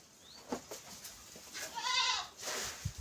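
Goats kept in a shed during the rainy season bleat a few times, one long wavering bleat in the middle followed by a shorter one, fairly close over soft ambient noise.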